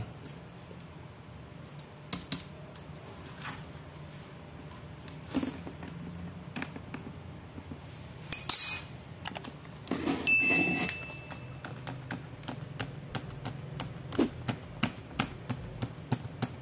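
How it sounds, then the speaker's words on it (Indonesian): Keys tapped on a newly replaced keyboard of an Asus E202S laptop during a key test, heard as scattered, fairly quiet clicks in an irregular rhythm, with a brief louder clatter partway through. "Kita langsung pakai keyboard testnya ya."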